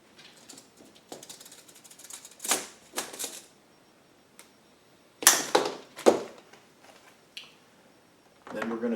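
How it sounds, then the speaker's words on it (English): Cutting a 1/4 inch fuel hose to an 8 1/4 inch length for a Wen 5000 generator extended run fuel kit: a few sharp close snips and crisp handling clicks, spaced irregularly with quiet gaps between. "cut an 8 1/4 inch section of 1/4 inch hose"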